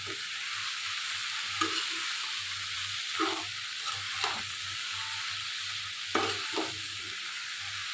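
Salted hilsa frying in a pan with potato and eggplant, a steady soft sizzle broken by a few sharp stirring scrapes and clinks, close and alone with no voices.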